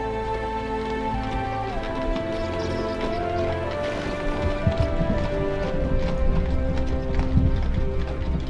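Horse hooves clip-clop steadily through a busy medieval game soundscape in Medieval Dynasty, the rhythmic clopping layered under music and ambient noise, growing slightly louder toward the end.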